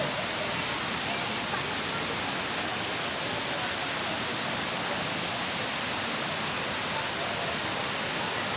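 Hinulugang Taktak waterfall in Antipolo roars as a steady, dense wash of falling water, loud and close, unbroken from start to finish.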